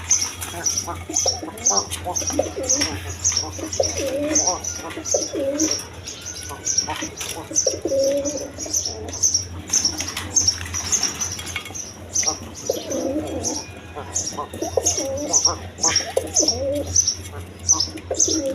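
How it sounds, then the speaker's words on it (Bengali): Rasgolla female pigeons at a pigeon seller's place coo in repeated low phrases, with steady high chirping from other birds and occasional wing flapping, all fairly close and continuous. "এইখানে 2টা রাসগোল্লা মাদি কবুতর আছে"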